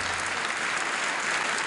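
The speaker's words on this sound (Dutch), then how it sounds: "Dat is niet gangbaar om te klappen, gewoon beleefdheidsklappen." Polite applause from a gathered audience, a brief, even, continuous patter of many hands at steady volume, with no voices over it.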